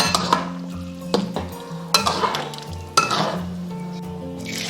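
A spoon stirs tomato and pork liver soup with egg, pepper and scallions in a metal pot, giving several sharp clinks against the pot over a soft simmering sizzle.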